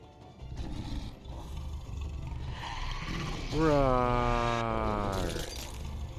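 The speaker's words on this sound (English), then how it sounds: "they just play the sound effect for like a tiger or like a lion or something" A tiger or lion roar effect in The Wolf Among Us swells into one long, falling growl midway, loud over a busy game background with noisy clatter before it.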